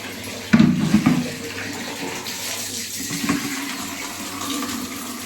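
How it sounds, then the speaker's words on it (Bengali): Tap water runs for a bathing fill, a louder gush near the start settling into a steady low splashing stream that continues throughout, with no talk. "জল ভরে রাখি"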